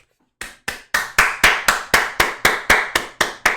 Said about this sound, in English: Round of applause to the goddess of death.